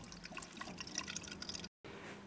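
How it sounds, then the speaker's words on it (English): Water being poured onto raisins in a pot, a soft trickle with scattered drips and splashes close by, continuing after a brief break. "Step two, add some water."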